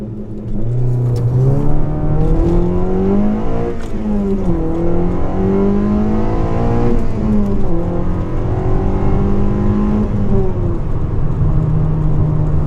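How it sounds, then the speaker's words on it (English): A Honda Civic engine revs and holds at high pitch on launch control, rising and falling repeatedly, loud and close, with no talking. "you're aiming for a little bit of slip when you have the car set up with launch control"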